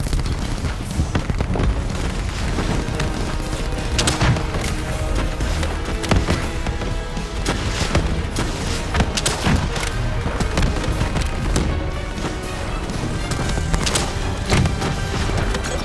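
Dense, continuous explosions and gunfire from the Call of Duty Black Ops III video game on PS4. Heavy booms and rapid shots pile up loud and unbroken for the whole stretch.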